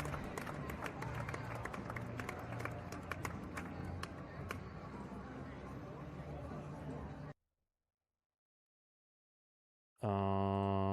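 Canned baseball stadium crowd noise effect playing as a dense murmur of a large crowd with scattered claps, under a commentator's voice, then cutting off into silence.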